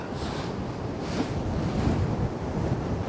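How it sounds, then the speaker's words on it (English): Strong gusting wind during a severe thunderstorm beside a swift river, roaring and buffeting the microphone in rising and falling surges with no voices. "Yeah, definitely windy."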